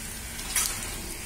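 Ginger pieces and asafoetida sizzling in hot oil for semiya upma, a brief steady hiss of frying with a slight swell midway.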